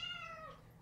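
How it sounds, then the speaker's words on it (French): A single cat meows once, brief, faint and drawn out, indoors with no other sound. "il miaule beaucoup"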